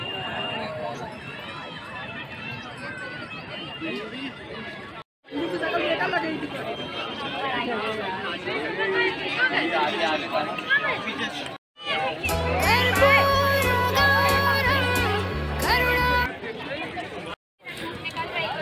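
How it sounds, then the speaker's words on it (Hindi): A crowd of people fills a temple in Bhopal with a steady murmur of overlapping chatter and footsteps, close and continuous, with brief cuts and a burst of louder bustle partway through. "बहुत सारे लोग हैं यहाँ पे, देखिए बहुत भीड़ चल रही है अभी"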